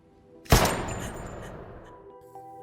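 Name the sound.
pistol gunshot in film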